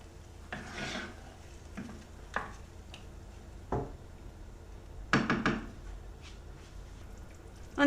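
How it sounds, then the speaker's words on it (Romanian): A spoon stirs liquid cream into a chicken and pasta sauce in a pan, making soft scraping and rubbing strokes, a few louder knocks against the pan, and quiet, unhurried movement with no speech. "Acum adăugăm smântâna lichidă. Amestecăm și lăsăm cam 10 minute să fiarbă."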